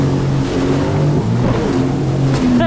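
A Sea-Doo jet ski engine on the water drones loudly and close, its pitch wavering as the throttle rises and eases over a few seconds, with wind and water rush around it.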